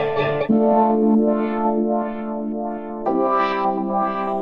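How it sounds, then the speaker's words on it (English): Sustained electric guitar chords from a UJAM virtual guitar plugin wash out in heavy reverb and distortion, notes swelling and blooming into a long shimmering tail; no one speaks. "that sounds like a guitar that's just been absolutely doused in in reverb"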